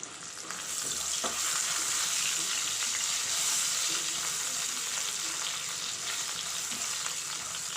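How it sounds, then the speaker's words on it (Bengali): Potatoes fry in hot mustard oil with salt and turmeric, giving a loud, steady sizzle that starts just after they drop in and keeps up a dense crackle throughout. "আর দিয়ে দিচ্ছি আলুটাকে প্রথমে ভেজে নেব।"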